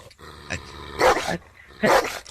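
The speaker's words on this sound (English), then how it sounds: "Here, cute little dog." A small dog barks in short, sharp yips, a few quick barks spaced across about two seconds, close and fairly loud, with no talking over them.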